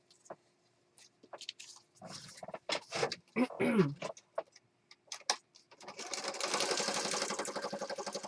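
A sewing machine stitches around mixed media pieces for cards. Light handling and tapping noises come first, then a close, steady mechanical whirr carries through the last few seconds.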